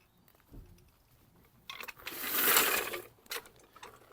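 A car jack lowering a car after a wheel change, heard as close mechanical ratcheting and grinding that swells to a loud peak, then a few sharp clicks as the car settles.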